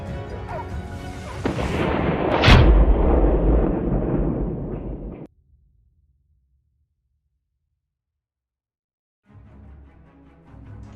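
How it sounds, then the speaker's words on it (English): A single loud hunting-gun blast during a wild boar hunt in snowy country, booming with a long rolling tail that cuts off abruptly, followed by silence and then faint rustling outdoor ambience. "The gunshot rang out."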